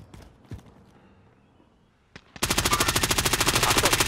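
Rapid automatic gunfire in the Call of Duty video game erupts after a few quiet clicks and footsteps, then continues as loud, tightly spaced bursts until the end.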